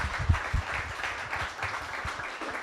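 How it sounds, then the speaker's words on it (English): A small audience gives a quick round of applause for event organizers, a soft steady patter of clapping at moderate distance. "everybody, if we give them a quick round of applause."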